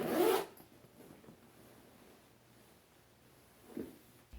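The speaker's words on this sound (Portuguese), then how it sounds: "para abrir a mochila, nós temos que puxar o cursor aqui por baixo. E ela abre toda a lateral." A zipper is pulled open along the side of an anti-theft backpack, a brief loud rasp at the start, then quiet handling with a small rustle near the end, with no talking.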